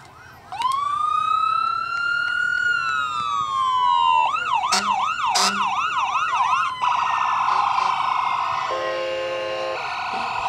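North Mississippi Medical ambulance at an outdoor Christmas parade in Belmont, its siren loud and close, sweeping through a wail, then a fast yelp, then a steady tone and horn blasts over a constant low rumble.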